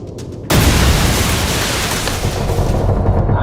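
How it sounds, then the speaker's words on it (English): A sudden loud explosion near a spaceship's engineering section bursts in after a brief quiet moment, then rumbles on as a dense, sustained roar. "Something's exploded near the ship's engineering."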